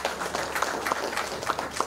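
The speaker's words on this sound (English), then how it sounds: "One more round of applause, please." A round of applause from the audience at a Vigilance Awareness Week launch ceremony, a short burst of scattered clapping with distinct individual claps over a continuous wash, fairly close and lasting about two seconds.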